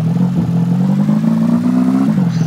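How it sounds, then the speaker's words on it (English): Loud, steady car engine drone in the video game Amazing Frog, a continuous throaty hum that rises slightly in pitch as the engine revs, then dips near the end, with no talking. "This is a loud car."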